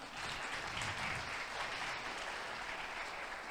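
A church congregation applauding, a continuous even patter of many hands clapping together, heard from some distance and fairly soft throughout.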